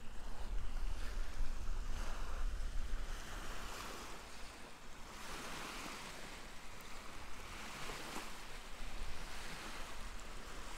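Waves wash steadily onto a campground beach on a lake shore, a soft continuous surf rolling in and out with gusty wind, fairly faint and with no voices.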